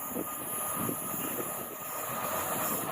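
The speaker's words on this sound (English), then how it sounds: "just behind this one should be our DB Cargo UK Squirter, the railhead treatment train" A DB Cargo UK railhead treatment train passes at a distance, a steady broad rumble and hiss holding level throughout with no voices.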